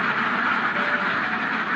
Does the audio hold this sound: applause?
no